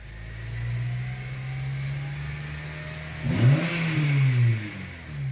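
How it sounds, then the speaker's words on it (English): A car with an intermittently failing air/fuel ratio sensor revs up under acceleration: a steady mid engine hum that climbs sharply in pitch and loudness partway through, then holds, close and with no talk. "So here, as I accelerate"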